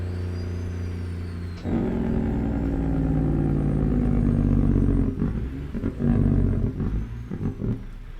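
Deep rolling thunder rumbles in American Truck Simulator, a low booming roar that swells in at about two seconds and surges again later, under a steady truck engine drone with no talking.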